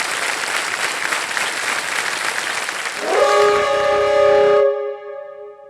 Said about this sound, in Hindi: तालियां बज जाए मृण्मय जी के लिए।